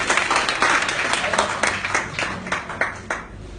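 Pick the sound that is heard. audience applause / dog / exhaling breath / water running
audience applause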